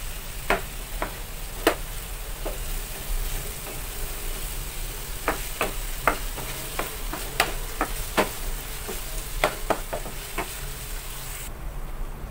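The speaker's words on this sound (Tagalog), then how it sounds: "igisa-gisa lang din natin itong hipon" Shrimp sautéing with chili seasoning in a hot pan, a steady close sizzle broken by sharp clicks and taps from stirring, with no talking.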